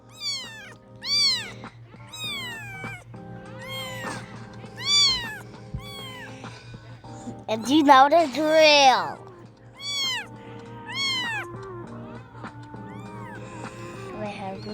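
Several cats meow repeatedly inside a pillow fort, high wavering cries scattered throughout over a steady low hum, with a louder cluster of overlapping yowls midway while a person talks now and then.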